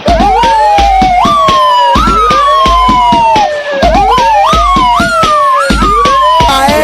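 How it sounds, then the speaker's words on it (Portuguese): A loud police siren wails in repeated rising and falling sweeps, close and piercing, with a pulsing rhythmic beat underneath. "Todo mundo treme quando ouve a sirene assim, ó"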